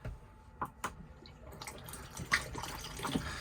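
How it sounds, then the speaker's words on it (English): Water trickles and splashes into the bowl of a Thetford bench-style cassette toilet in a Hymer Exsis T588 motorhome, with faint, intermittent drips and gurgles and a few sharper clicks. "always put a little bit of water into the bowl. So press the blue button here."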